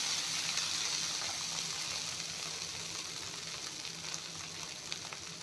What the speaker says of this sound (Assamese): এয়া চব পানী দি দিছোঁ।